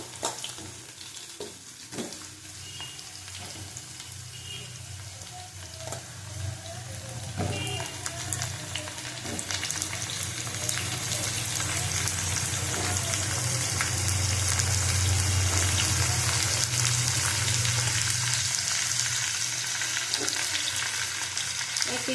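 Prawn fried with pumpkin and vegetables in a pan gives off a steady sizzle. It starts quieter with occasional stirring clinks, then grows into a loud, continuous, rain-like hiss that fills the rest of the time.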